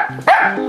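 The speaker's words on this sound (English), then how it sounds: "Why are you barking at me?" A rescue puppy lets out one sharp, close yappy bark amid low whimpering sounds, loud and alone at Christmastime in a house.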